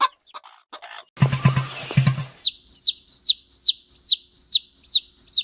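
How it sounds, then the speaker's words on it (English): A chick peeps in a rapid series of short, high, bright chirps, close and clear, after a brief burst of clucking fowl noise near the start. "Chick."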